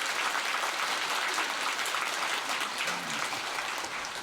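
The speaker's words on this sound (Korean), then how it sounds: "하나님께 감사와 영광의 박수를 올려드립니다." A church congregation claps steadily and evenly throughout, a dense wash of hands filling the sanctuary with no voices on top.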